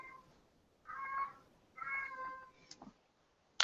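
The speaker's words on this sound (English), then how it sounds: "I'm sorry for my stupid cat who's in heat back here" Female cat in heat giving drawn-out, wavering cries, two long yowls about a second apart, then a few short faint sounds and a sharp click, heard alone in a quiet room.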